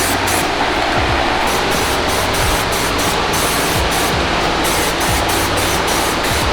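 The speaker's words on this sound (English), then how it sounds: "Now we're gonna go and self-etch over any bare metal." Self-etch primer is sprayed from a spray gun over bare metal on a 2022 Subaru BRZ, a loud, continuous close-range hiss that holds steady for the whole stretch without talk.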